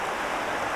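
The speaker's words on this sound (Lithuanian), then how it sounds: "Bet tokia srauni upė." A fast-flowing river at night on its bank, heard as a dense, even rushing of water, close and continuous for under a second with no talking.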